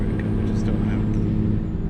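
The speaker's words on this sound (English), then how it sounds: "No Jake, it's too loud in this truck." Truck engine in American Truck Simulator, a loud, steady low drone from inside the cab that holds constant throughout.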